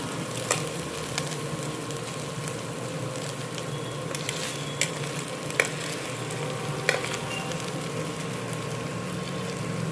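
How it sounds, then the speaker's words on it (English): Rice tipped into cooked chicken in a kadai for Hyderabadi dum biryani, a continuous loud sizzle and stirring scrape with a few sharp clinks, no voices. "Nanny is putting rice in the kadai"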